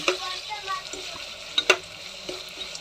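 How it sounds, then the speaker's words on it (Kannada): Green chillies frying in hot oil in a pan, a steady soft sizzle with a few sharp stirring clinks and scrapes, close and fairly quiet, no one talking. "ಅದನ್ನು ಮೆತ್ತಗಾಗುವಂಗೆ ಹುರ್ಕೋರಿ"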